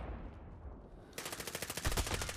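Rapid automatic gunfire from a video game weapon erupts after a quieter opening and continues as dense, fast bursts for the rest of the moment, loud and close.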